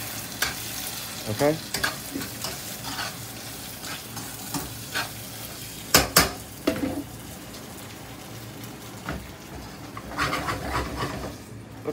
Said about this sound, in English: Okay, we're going to let that fry on up.